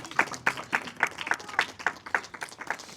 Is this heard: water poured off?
no